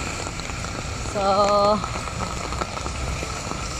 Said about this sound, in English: it's raining, as you can see.